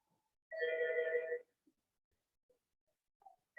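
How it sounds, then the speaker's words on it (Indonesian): A telephone sounds one short electronic ring for an incoming call, nearly a second long and fairly clear against a quiet room, followed by faint small noises. "ada telepon masuk"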